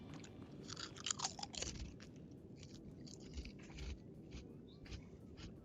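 Fried fake chicharrones crunch between the teeth in close, steady chewing, with bursts of crisp crackles and softer munching in between, no talking.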